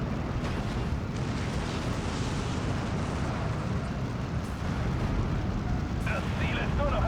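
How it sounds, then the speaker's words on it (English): Rockets explode in the Steel Division 2 war game as a dense, continuous rumble of blasts and booming impacts, loud and sustained throughout. "and here come the rockets."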